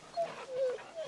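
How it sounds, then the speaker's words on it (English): A small dog whimpers close by in a few thin, high, brief whines, soft and separated by short pauses. "It's a little dog."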